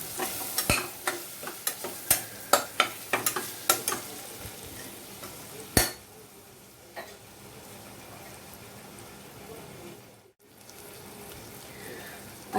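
Onion and tomato sizzle and fry in a pan, with a spoon clacking repeatedly against it early on, followed by a softer, steady frying hiss.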